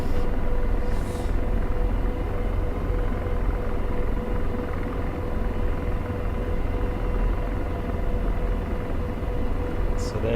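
Steady rotor thump and turbine whine of an AH-64 Apache helicopter in the DCS flight simulator, a constant droning hum at moderate loudness with no talk over it.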